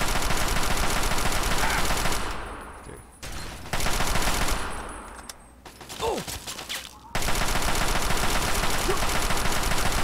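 Sustained automatic machine-gun fire from a gunfight in the video game Fallout 3, loud and dense bursts filling most of the stretch with two brief lulls, and a single short spoken word partway through.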